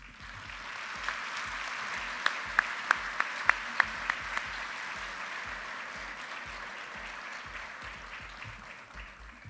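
Audience applause at a university honor ceremony in Colombia, steady dense clapping from a crowd throughout, moderately distant, with a few sharper claps standing out in the middle.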